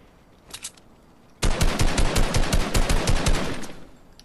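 Rapid automatic gunfire in a video game shoots down a skybase, starting with a few faint shots and then breaking into a loud, sustained burst of close, evenly spaced rounds.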